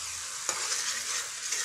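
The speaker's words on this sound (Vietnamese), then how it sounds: "Mình khuấy lên đến khi là nó sệt lại như này." Tamarind sauce bubbling in a pan is stirred with a spoon, a steady, dense sizzling hiss with a faint scrape partway through, close and continuous.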